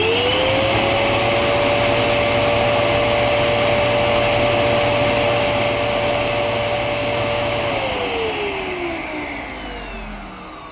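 A Zanuusi AirSpeed Lite II Pet bagged upright vacuum with a fairly full bag runs at a loud, steady whine, then the motor pitch drops and winds down toward the end.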